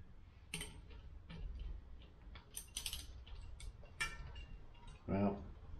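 Faint, scattered metallic clicks and light rattles as a chain whip is wrapped around the larger sprocket of a bicycle cassette and locks into place, close and quiet.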